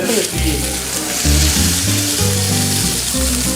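Sirloin steak sears in a dry pan with no butter, giving a loud, close, continuous sizzle and crackle that pulses with bursts of low hiss.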